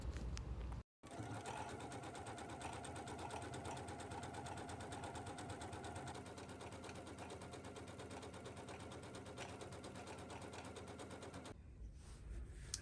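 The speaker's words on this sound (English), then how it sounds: "then we will do the zigzag stitch for the back side" Sewing machine zigzag stitching a seam to gather with yarn, a loud close rapid mechanical chatter that runs steadily for about ten seconds after a brief pause, then stops.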